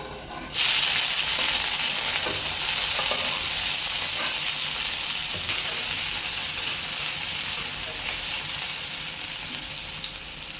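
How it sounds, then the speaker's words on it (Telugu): Capsicum pieces hit a pan of frying green chili and garlic, setting off a sudden loud sizzle that keeps hissing steadily and slowly eases, close up with no voices. "ఇప్పుడు ఇందులో క్యాప్సికమ్ ముక్కలు వేసుకుందాం"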